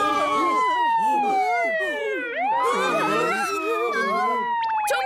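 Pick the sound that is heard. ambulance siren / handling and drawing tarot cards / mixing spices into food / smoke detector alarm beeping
ambulance siren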